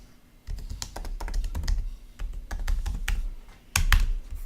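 Computer keyboard typed on while entering a password, a run of sharp irregular key clicks in quick bursts with short pauses, close and clear with no talk.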